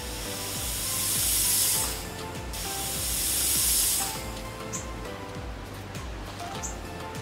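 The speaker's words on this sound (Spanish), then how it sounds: "ya está generando burbujas y se está preparando para la explosión" Fizzing, hissing bubbles from a homemade bomb's chemical reaction before it explodes, in two swelling bursts, steady and fairly close, with faint high chirps toward the end.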